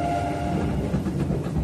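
A Tobu 10080 series local train bound for Asakusa runs along the line, a loud steady rumble of wheels and carriage noise with faint rhythmic clicking, heard from inside the train.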